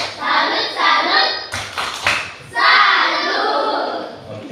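A group performs a rhythmic 'tepuk salut' clapping chant in a classroom setting, sharp bursts of hand claps alternating with chanted voices, loud and close, in a couple of quick rounds.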